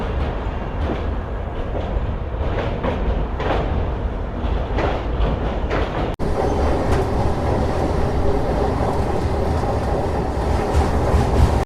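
The Prashanti Express, running from KSR Bengaluru to Bhubaneswar, rumbles past at a station in a loud, continuous roar of wheels and wagons, with a brief dip midway before the steady clatter resumes.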